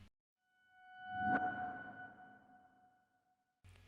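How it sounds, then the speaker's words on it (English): A reversed piano note from a Vaults Attic Grand piano, swelling up softly from silence to a peak and then fading out, a single breathy rising tone alone and fairly quiet. "I automated the volume up so that you didn't hear the note, but just heard the reverse effect"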